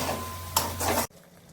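Spinach masala for palak paneer being sautéed in a pan, a steady sizzle and stirring scrape with one sharper clatter midway, cutting off abruptly after about a second.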